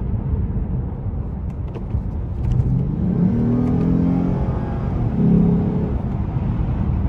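A 2014 Lexus GS350 F Sport with 63k miles accelerating through paddle-shifted gears, heard from inside the cabin as a steady engine drone rising in pitch in two surges, no speech over it.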